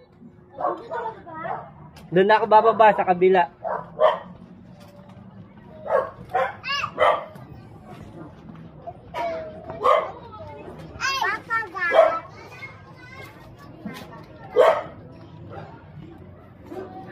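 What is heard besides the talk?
dog barking in a street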